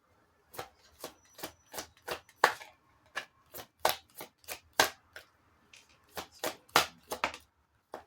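Tarot cards are shuffled in a string of crisp, sharp riffles and taps, close by and uneven in rhythm, with short pauses between bursts.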